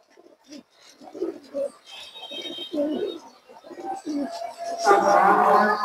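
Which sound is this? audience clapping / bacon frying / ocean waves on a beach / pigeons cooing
pigeons cooing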